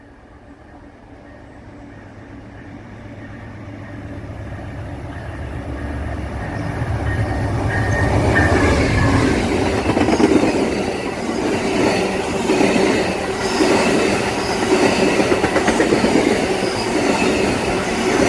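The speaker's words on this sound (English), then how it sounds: "here is Amtrak 95 from New York to" An Amtrak passenger train, number 95, rumbles past, growing steadily louder over several seconds, then holding a loud, broad roar of rolling wheels and rail clatter.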